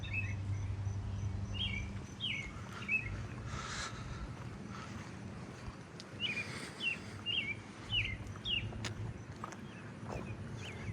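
An American robin sings in a suburban neighbourhood with crickets trilling, its short whistled phrases coming in clusters at moderate distance over a steady, faint insect hum and outdoor background.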